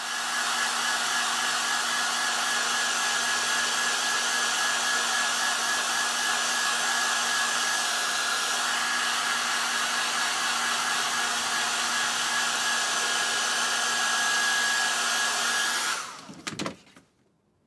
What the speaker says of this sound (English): then hit with the hairdryer to warm the adhesive up and dry the unit off properly